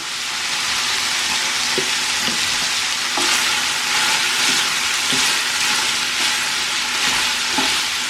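Onions and pork neck sizzle in a hot pan for a stew, a steady loud frying hiss with occasional soft clicks and scrapes of stirring, and no talking.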